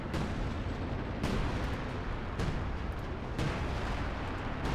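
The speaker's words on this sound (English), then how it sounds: "artillery is hitting around him" Artillery shells landing in the Company of Heroes 2 game during a 4v4 battle on Hill 400: four heavy booming impacts spaced about a second apart, each leaving a rumbling tail under constant battle noise.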